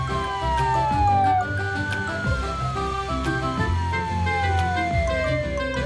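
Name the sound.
police car siren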